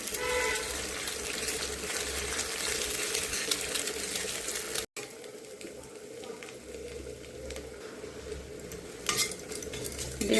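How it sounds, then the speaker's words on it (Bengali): An egg fries in hot mustard oil with mustard seeds and dried chillies in a kadai, a steady sizzle with scraping stirs of a utensil against the pan. "ডিমটা ভালো করে ভাজা হয়ে গেছে"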